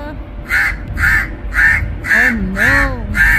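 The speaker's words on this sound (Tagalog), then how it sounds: "Ang laki ng uwak guys, oh, ng crow." A big crow caws six times in a regular, evenly spaced series, harsh and fairly close, with some lower warbling calls mixed in partway through.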